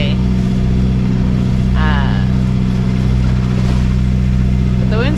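A sailboat's engine runs while motor sailing offshore near Friday Harbor toward the Pacific, a steady close droning hum throughout with brief voices over it.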